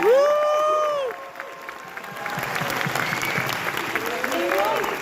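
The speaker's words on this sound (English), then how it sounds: "So I'd love to give them a round of applause." An audience gives a round of applause for a film crew, dense clapping that builds and holds steady after a voice speaks over the start.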